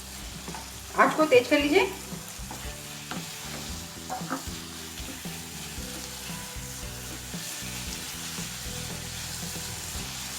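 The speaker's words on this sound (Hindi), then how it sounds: "इसे अच्छे से मिक्स कर लीजिए और घी में अच्छे से सेंक लीजिए।" Grated lauki kalakand mixture stirred and roasted in ghee in a pan, giving a steady close sizzle with spoon scrapes and a short spoken remark near the start.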